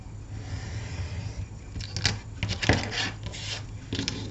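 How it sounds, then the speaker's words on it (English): A cutting knife scrapes and trims a small piece of a miniature light box, starting as soft rubbing and then giving several sharper close scraping strokes. "I'm actually going to use my cutting knife, and I'm going to cut off a smidgen."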